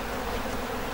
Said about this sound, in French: avec tout ce que j'ai là, j'ai plus du million d'abeilles